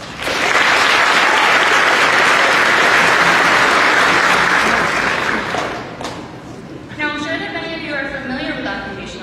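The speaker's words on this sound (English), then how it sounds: "Graduates, let's give them a round of applause." Graduates at a hooding ceremony give loud, dense applause for their supporters, sustained for about six seconds before dying away, followed by a speaker's voice over a hall.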